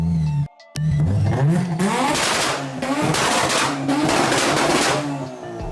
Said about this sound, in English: I'm really happy with the exhaust because I think it sounds awesome.